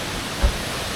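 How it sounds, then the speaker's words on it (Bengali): The Bhimnala waterfall in North Sikkim, a steady broadband roar of falling water heard from nearby, unbroken apart from one brief low thump midway, with no talk. "তো এই দেখো ফলসটা, ওয়াও, সেরা লাগছে।"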